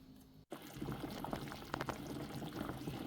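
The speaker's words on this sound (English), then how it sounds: "the banana pot water is boiling" Water boils in a banana pot on a Jamaican cooking stove, bubbling and sputtering steadily at close range after a brief silence, with small pops and splashes.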